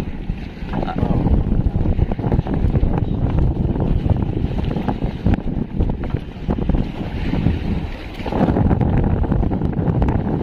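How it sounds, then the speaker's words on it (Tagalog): Strong wind roars and buffets the microphone in loud, gusty bursts on the Pacific Ocean, with splashing water, big waves and a boat's rumble underneath. "Sobrang lakas ng hangin."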